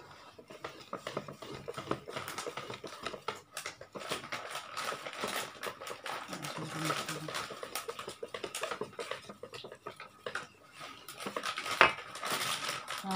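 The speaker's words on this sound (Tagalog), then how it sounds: "Haluin lang ng haluin." Tikoy batter being stirred in a bowl makes soft, irregular scraping and tapping clatter, fairly quiet and continuous, with a sharper clink near the end.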